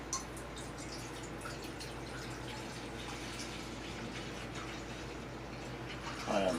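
Clean water pouring into a cooking pot during prepper meal prep, a soft continuous trickling and dripping stream at low level with a slight splash near the end.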